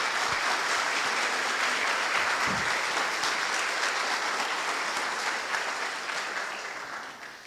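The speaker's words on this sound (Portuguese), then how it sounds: "por que já não aplaude a Nossa Senhora?" A church congregation applauds steadily during a Catholic homily, a dense wash of clapping that holds strong and then gradually fades toward the end.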